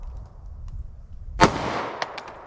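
A 9mm or .45 ACP pistol with a 3.3-inch barrel fires Federal Syntech Defense ammunition over a chronograph: one sharp, loud close shot after quiet room tone, then a few faint clicks and sharp ticks.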